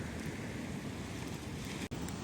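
Broadband wash of sea waves at night on a beach in Surigao, steady and fairly loud with wind noise, briefly cutting out near the end; no talk.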